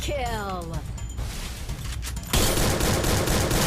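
Gunfire in the Free Fire battle game, a dense stream of rapid shots that continues throughout and grows louder and denser partway in, with a voice talking over it.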